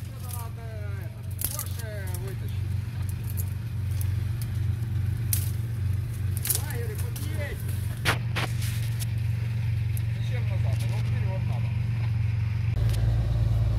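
An off-road truck drives with a steady low engine rumble throughout, while people talk over it and occasional crackles and knocks cut through.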